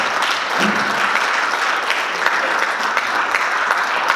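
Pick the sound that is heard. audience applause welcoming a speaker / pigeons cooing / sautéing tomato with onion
audience applause welcoming a speaker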